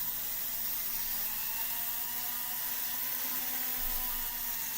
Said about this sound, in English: we went over it with the rotary wire brush anyway.